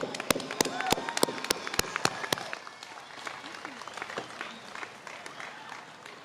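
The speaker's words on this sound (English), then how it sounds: "let's give a loud round of applause to all those folks who have helped us get to this point" A graduation audience at the 2025 Alta Vista ceremony breaks into loud, sustained applause, with sharp bursts of clapping early on that settle into a broad crowd roar, voices faintly beneath it.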